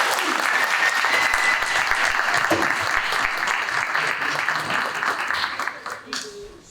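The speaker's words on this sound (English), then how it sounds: "Let's give them another round of applause." An audience at a county school board meeting gives a sustained, dense round of applause that holds steady before thinning out and fading at the end.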